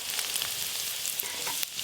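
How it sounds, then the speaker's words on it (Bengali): Onion and garlic fry in mustard oil in a home kitchen pan, a dense, continuous crackling sizzle with small pops and the scrape of stirring, close and loud throughout. "পেঁয়াজ আর রসুন তো ভাজা ভাজা হয়ে গেল"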